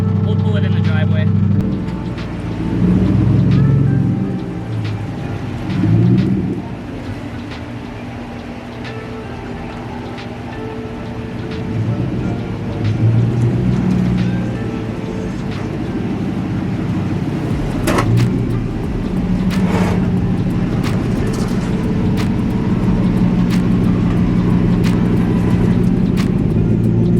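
A Lexus LS400 engine warms up at a steady idle, a continuous low rumble with some vibration and shaking, while background movement and occasional louder bumps come through.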